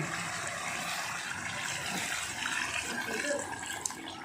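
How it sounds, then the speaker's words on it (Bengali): Water pours steadily into a pot of spicy goat meat curry, a continuous close gushing and splashing that holds evenly throughout. "এবার আমি জল ঢেলে দিচ্ছি"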